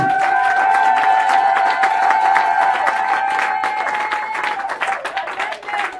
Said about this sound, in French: Des acclamations à Jésus.